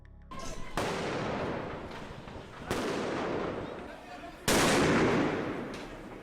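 Several loud, sharp blasts go off one after another, each boom followed by a long rumbling decay, with voices faint underneath.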